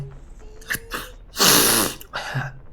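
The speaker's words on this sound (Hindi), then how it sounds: "नाक साफ कर लिया, मैं क्या करूँ?" Someone blows their nose with a short burst of loud, breathy honking in the middle, surrounded by smaller sniffs and snorts close to the mic, during a Hindi-language commentary session on the horror game Granny.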